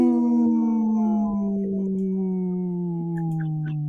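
A voice imitates a wolf howl in one long, sustained tone that slowly slides downward, clear and close over a quiet background.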